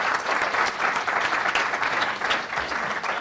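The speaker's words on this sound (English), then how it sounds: "let's just give him another round of applause" An audience gives a round of applause, dense steady clapping close by for a few seconds without pause.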